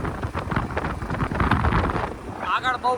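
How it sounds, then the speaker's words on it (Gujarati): Strong wind buffets the microphone while riding motorbikes on a village highway in stormy, rain-threatening weather, a loud, gusty rumble that swells and dips without a break. "આગળ બહુ પવન બહુ વધી ગયો હોય અને વાતાવરણ એવું થઈ ગયું હોય વરસાદ જેવું"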